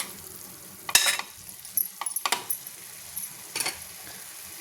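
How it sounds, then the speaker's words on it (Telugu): Cauliflower fry cooking in a pan for a Telugu recipe, with a soft background sizzle broken by a few sharp bursts of stirring and scraping. No one speaks. "కాలీఫ్లవర్ అంతా బాగా మగ్గుతూ ఉంది కదా."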